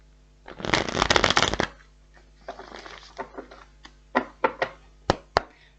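Tarot cards are riffled and shuffled in a close, dense burst of flapping, followed by softer sliding and several sharp taps as the deck is squared and set down.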